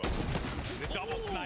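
Sniper rifle shots in an online shooter video game, a loud burst of gunfire crackling over dense background game noise, with overlapping echoing reports and a sweeping tonal effect near the end.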